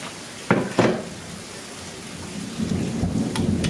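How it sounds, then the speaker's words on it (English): A rare thunder and rainstorm in Arizona: two sharp close thunder cracks early on, then steady rain pattering on surfaces with scattered drips, no talking. "We're having one of our rare thunder and rainstorms here in Arizona."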